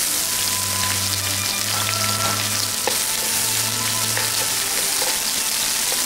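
Onions hitting a hot wok and frying, a loud continuous sizzle and crackle with faint clinks of a utensil, steady throughout and without talking.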